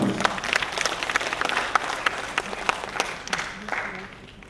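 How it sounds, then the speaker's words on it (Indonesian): Audience clapping fills a poetry recital hall, a dense steady round of applause from a crowd that holds for several seconds at moderate volume, with faint voices mixed in. "Satu tepukan untuk Okey Manis."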